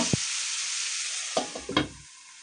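Tinda squash and onion cook on a stovetop in a pan, a quiet steady sizzle broken by a few clinks and scrapes of a stirring spoon, no voices.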